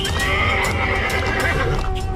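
Horse neighing in a cartoon: one loud, close, drawn-out whinny that fills the short moment, with no talk over it.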